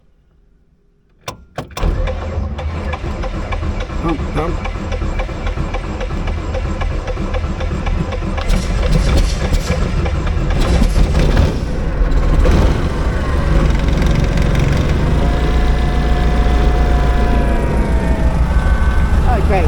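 Cold light-aircraft piston engine with a carburetor accelerator pump, briefly cranked before it catches and settles into a loud, steady running drone that swells slightly later. A voice speaks a couple of words at the start.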